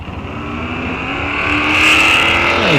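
Drag race cars, a green Camaro against a Pontiac, running down the track at a test-and-tune event at Rock Falls Raceway; a loud, steady engine roar that builds in the second half as the cars accelerate away.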